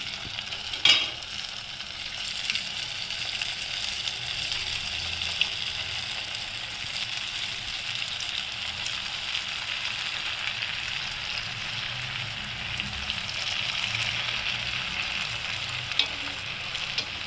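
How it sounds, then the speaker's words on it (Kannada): Snack dough frying in hot oil, a continuous dense sizzle and bubbling that holds steady throughout, with one sharper clatter near the start and no talking. "ಇದು ಈಗ ಎಣ್ಣೆ ಕಾದಿರೋದ್ರಿಂದ ನಾನು ನಿಧಾನವಾಗಿ ಹಾಕಿಬಿಡ್ತಾ ಇದ್ದೀನಿ"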